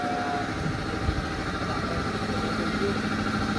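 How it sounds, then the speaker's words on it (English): A KTM 790 Duke with a titanium full-system dual undertail exhaust idles loudly and steadily up close, a constant rumbling throb with no revs. "this is actually by far the loudest 790 exhaust setup"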